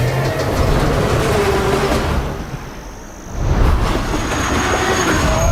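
A moving train makes a steady, close rumble with rail clatter heard from inside the carriage. The noise dips briefly midway, then swells back, with no voices.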